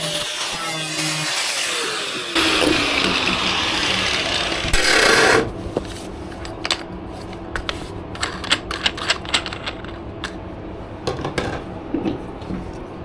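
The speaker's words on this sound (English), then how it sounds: "we're going to use the cutting disc to cut it very close to the end" A cutting disc bites into boat stringers with a loud, harsh grinding burst and a whining tone winding down, followed by scattered scraping clicks and knocks as the work pauses.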